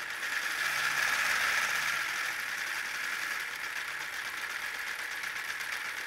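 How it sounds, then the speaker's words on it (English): A small electric motor with internal gearing drives a Lego Orient Express train, giving a steady high-pitched whine and faint rattle that stays near and even throughout, slightly louder at first. "you do get a whining sound from this motor because that has internal gearing"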